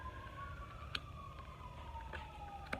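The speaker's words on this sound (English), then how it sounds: "Sorry, you hear the sirens?" A faint, distant siren wails steadily in the background, with a few soft clicks over a low rumbling hum.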